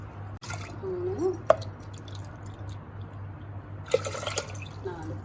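Water added to a pressure cooker holding black rice, heard as soft drips and splashes in two brief bursts over a low steady hum, close by and fairly quiet.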